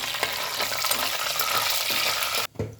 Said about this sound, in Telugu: హాఫ్ స్పూన్ జీలకర్ర, మంచి ఫ్రై చేసుకోవాలి